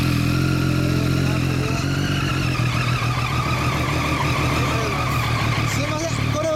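A Triumph Daytona 675R sport motorcycle with a Remus aftermarket exhaust idles close by, giving a loud, steady, throaty rumble that holds without revving for the whole stretch.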